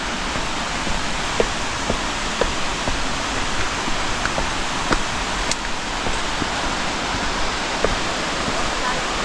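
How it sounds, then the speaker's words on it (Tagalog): A waterfall in Biliran Province, Philippines, roars as a steady, dense broadband rush of falling water close by, filling the whole scene with constant noise and a few faint clicks on top. "maririnig na natin yung mismong ingay. Sobrang ganda pakinggan ng ingay ng falls."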